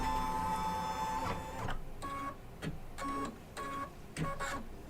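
An embroidery machine stitches an appliqué cupcake quilt block, giving a whirring mechanical hum broken into rhythmic pulsing bursts of stitching, close and steady, with no talking.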